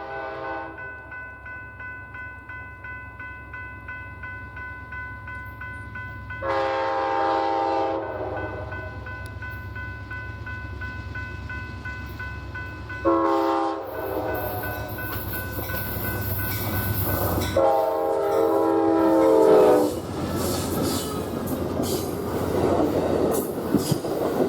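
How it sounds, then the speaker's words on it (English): An Amtrak Southwest Chief led by P42 locomotive number 181 passes along the Glorieta Subdivision near a crossing, sounding several long, loud chime-horn blasts over the rumble of the train, which swells into rolling wheel noise and squeal. "Leading today's Chief was Amtrak P42 number 181."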